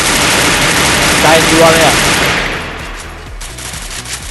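Rapid automatic gunfire in the Free Fire battle-royale video game, loud and dense for the first two and a half seconds, then dropping to quieter shots, with someone speaking over it.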